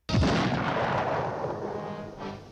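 A loud, booming cartoon cannon blast from the 1954 Looney Tunes short Captain Hareblower hits suddenly and rumbles on, slowly fading with a brief swell near the end.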